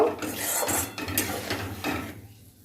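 Spoon scraping and stirring ground mustard paste through a spiced egg curry in a pan, a few close rasping strokes in uneven rhythm, no voices.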